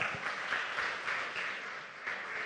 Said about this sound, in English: A huge applause to them